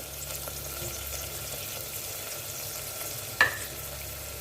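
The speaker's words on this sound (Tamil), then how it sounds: "இப்போ வெங்காயம் நல்லா வதங்கட்டும்" Steady, soft sizzling of onions sautéing in a pressure cooker with cloves and cardamom, with a single sharp metallic clink near the end.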